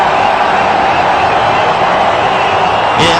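A big crowd of some 20,000 Indian fans roars in a steady, loud swell at a T20 cricket match between India and Australia, with a sharper burst of noise at the very end.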